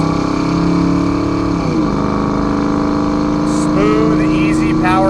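A 1989 Ford Mustang GT with a 5.0-litre V8 and automatic transmission accelerates from inside the car, the engine note climbing, dropping at a shift and climbing again, close and steady with a brief squeak near the end.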